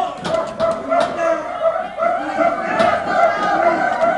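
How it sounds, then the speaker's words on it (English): Wrestling crowd at an indoor show barking in a rhythmic chant, a loud layered mass of voices with repeated sharp yelps and shouts pulsing throughout. "Now the crowd starts their barking."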